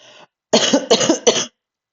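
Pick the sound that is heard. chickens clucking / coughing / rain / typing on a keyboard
coughing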